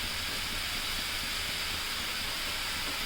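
Green chillies and curry leaves sizzling in a hot pan, a steady, loud, even hiss of frying oil that holds without pause throughout.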